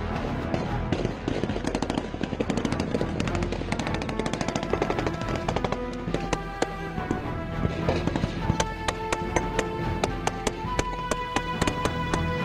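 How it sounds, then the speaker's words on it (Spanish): Heavy gunfire in an armed clash between soldiers and cartel gunmen in Mexico, dense rapid bursts and single shots crackling without pause. The shooting is loud and sharp throughout and grows more distinct and rhythmic toward the end. "algunos agentes estaban escudados detrás de sus vehículos disparando, mientras el sonido constante de las detonaciones retumbaba de forma peligrosa"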